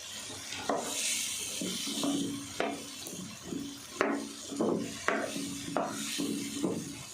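Potatoes and cauliflower being stirred and fried in a pan for aloo gobi sabzi, with repeated scraping strokes of a utensil and a soft sizzle running underneath, steady and close.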